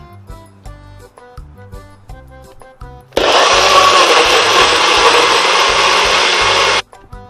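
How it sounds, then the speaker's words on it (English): A loud blender purees pineapple, whirring steadily for about four seconds, starting abruptly and stopping sharply, after some lighter clattering and tapping. "add it to your blender, food processor, or NutriBullet, something that will blend this to make it like puree"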